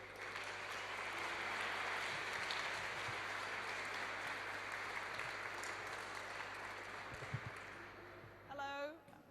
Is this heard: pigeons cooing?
no